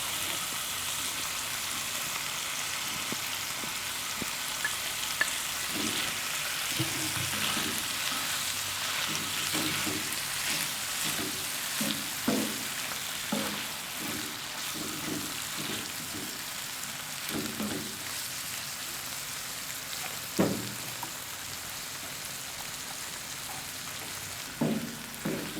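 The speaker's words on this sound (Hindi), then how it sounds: "टमाटर और चिकन को थोड़ी देर फ्राई करने के बाद" Chicken and chopped tomatoes fry in ghee on a tawa, giving a steady close sizzle with scattered pops and occasional stirring scrapes throughout, no voices.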